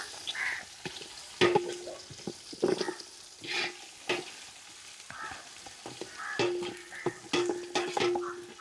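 Onions fry in a pan on a home stove, a soft sizzle under repeated scraping and clinking stirring strokes that come in irregular bursts.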